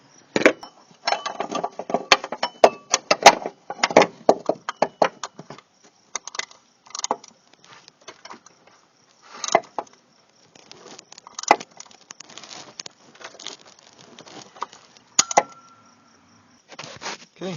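A new idler pulley being tightened onto a Saturn S-series engine gives irregular metallic clicks, ratchet-like ticks and small tool rattles, close and moderately loud, in bursts with short pauses and no talking.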